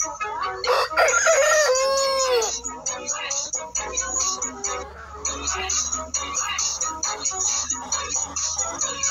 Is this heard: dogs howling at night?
no